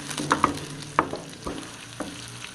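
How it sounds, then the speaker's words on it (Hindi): Garlic frying in a pot for Peshawari rice gives a steady low sizzle, with several sharp utensil clinks and scrapes spaced through it; no one speaks. "मैंने इसमें लहसुन भी डाल दिया है। तो ये जो है मैंने थोड़ा सा जो है फ्राई कर देना है"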